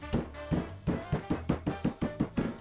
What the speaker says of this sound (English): I'm going to take this little hammer made for the kitchen, it's rubber, and we're going to crush the walnuts